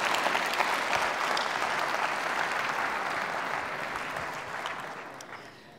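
Audience at a university lecture applauds in dense, sustained clapping that fills the hall, loud and steady before gradually fading toward the end.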